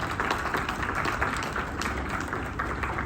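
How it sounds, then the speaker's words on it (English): Wedding guests give a round of applause, a fairly faint, even wash of clapping from a crowd that holds steady without a break. "Could we give a round of applause to all the people who helped out?"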